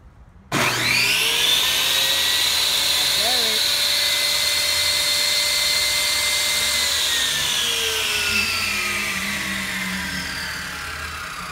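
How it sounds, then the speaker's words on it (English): A cheap Temu saw with a plasticky base spins up abruptly to a shrill, fast motor whine that holds steady up close, then slowly winds down in pitch toward the end. "turning the saw on."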